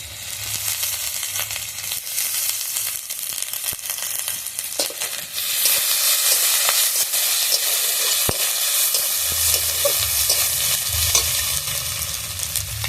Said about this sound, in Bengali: এবার আমি বেটে রাখা আদা রসুন দিয়ে দেবো।